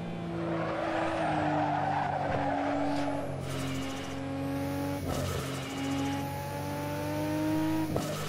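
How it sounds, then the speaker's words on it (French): A racing car engine in the video game Assetto Corsa drones under a rising and falling turbo whistle, with gear shifts and a faint tire squeal, steady and continuous. "vous entendez un petit peu le turbo s'exprimer."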